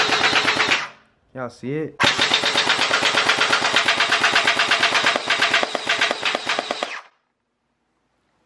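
An AK-47 gel blaster toy gun fires rapid, evenly spaced mechanical shots in a close, loud burst, pauses briefly while a voice speaks, then fires a long sustained burst of about five seconds before stopping abruptly.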